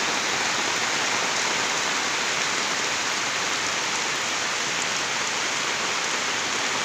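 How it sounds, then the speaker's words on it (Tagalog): Dense, steady heavy rain in Bicol, Philippines, hissing loudly and evenly throughout, with no other sounds standing out. "makikita nyo kung gaano kalakas yung ulan dito"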